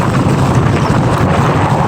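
Strong typhoon wind roars steadily and loudly across the microphone by the sea in Las Piñas, a continuous rough rumble with no pauses and no voices.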